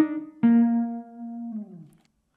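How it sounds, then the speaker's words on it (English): A Sample Modeling virtual saxophone holds a sustained note with the mod wheel set halfway between vibrato and straight samples, so the tone wavers with a slight phasing swirl before fading out, played solo. "then you will hear some phasing,"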